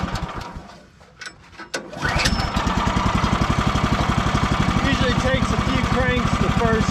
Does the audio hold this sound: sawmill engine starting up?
yes